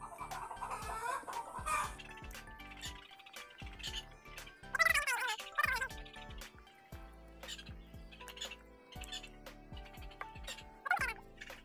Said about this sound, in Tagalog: Ang ingay ng mga manok namin ngayon, alam niyo kung bakit?